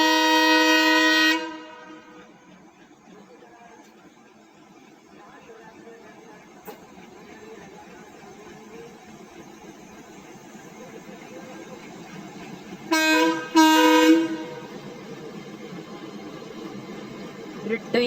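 A twin-engine train at Phagwara Junction sounds a loud horn blast, then rumbles softly as it passes before two more sharp horn blasts close by.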